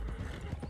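Horse hooves clip-clopping in Red Dead Redemption 2, a few quick, close, soft-edged hoofbeats with a faint creak of tack, heard alone over a brief stretch.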